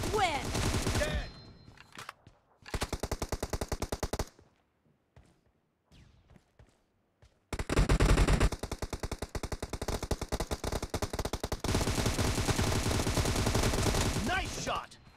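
Bursts of rapid automatic gunfire from a multiplayer shooter video game come in loud clusters separated by short quiet gaps, with a few single shots in between.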